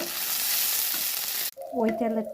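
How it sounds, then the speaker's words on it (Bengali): Potatoes dropped into hot oil left from frying paneer, a loud, even hiss of frying that cuts off abruptly, followed by clattering and faint sizzling close by. "এখন দিয়ে দেবো আলুগুলো আমি হালকা ভেজে নেব।"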